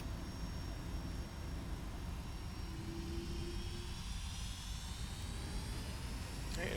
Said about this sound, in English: Let's go and hold the aircraft and stabilize the engines,